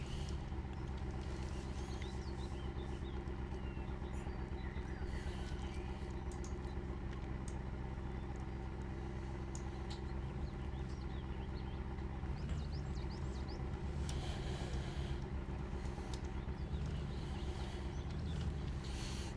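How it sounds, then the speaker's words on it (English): A pickup truck idling in the Mudrunner off-road game, a steady low engine rumble that holds constant and unbroken for nearly twenty seconds, with no talk over it. "Did I leave the truck running?"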